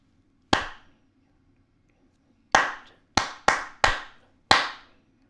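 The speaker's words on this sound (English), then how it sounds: "I'm going to clap pattern 11 for beats 1 and 2, pattern 7 for beats 3, and pattern 8 for beat 4" Sharp hand claps ring out alone in a quiet room, one clap followed by a gap, then five quicker claps in an uneven rhythm, each with a short decaying tail.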